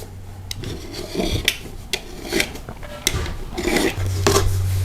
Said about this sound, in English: Take your utility knife and just fillet that area.